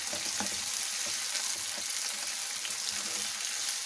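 A masala of onion and tomato cooks on a low flame, a soft continuous sizzle of oil with faint stirring scrapes, fairly quiet and close, with no speech.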